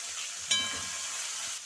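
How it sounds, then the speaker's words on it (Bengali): Shrimp fry in a pan with four green chillies, a soft, steady hiss of oil with a small crackle near the start, quiet and close. "চিংড়িগুলো বেশি ভাজবো না,"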